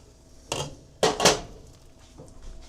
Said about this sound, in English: Let me just give this a quick stir and make sure it's to a boil again